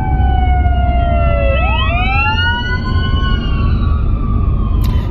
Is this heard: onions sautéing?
no